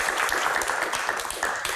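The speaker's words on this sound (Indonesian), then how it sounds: "Tepuk tangan buat teman-teman." A studio audience of university students applauding, dense continuous clapping at moderate loudness throughout.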